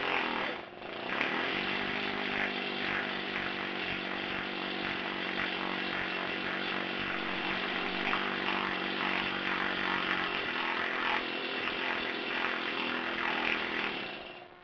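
A Harbor Freight planishing hammer pounds continuously and rapidly on a sheet metal panel, producing a loud, steady mechanical buzz that runs without pause.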